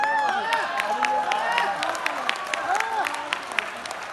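An audience at a poetry gathering during the Banda festival claps steadily in a dense, lively wash of applause, with chatter and a voice rising and falling beneath the clapping.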